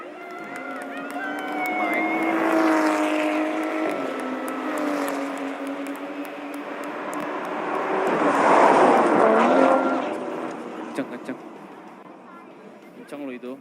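Racing car engines and exhaust roar through a start in a drag racing video game, with revving tones rising and shifting, swelling again near the end, while excited voices chatter over it.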